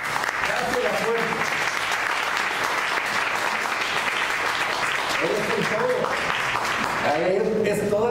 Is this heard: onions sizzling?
no